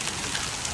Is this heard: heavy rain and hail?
yes